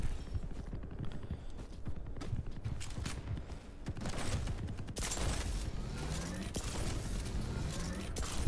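Gunfire in a first-person shooter video game, a rapid fusillade of shots with bursts and clattering impacts at moderate level over continuous game noise.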